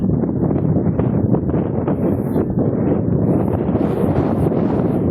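Strong wind roars and buffets the microphone at a hilltop lookout, a steady, loud rush that continues without a break.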